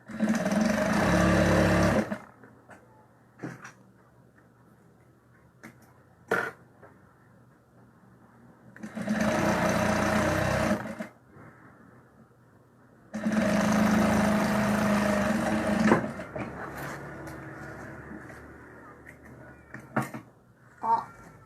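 A sewing machine stitches a seam on a fabric necessaire box in three separate bursts of a few seconds each, with quiet handling noises between them.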